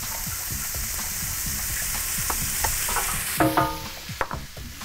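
Onion, carrot and celery sizzle and fry steadily in a disco pan over a country fire, with frequent scraping stirs and a few louder clatters toward the end, no talk.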